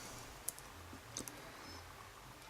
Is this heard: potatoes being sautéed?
no